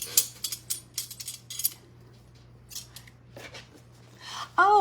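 Scissors snip through material on an old wooden box in a rapid series of crisp cuts, followed by scattered quieter snips. A sharp metallic clatter comes near the end.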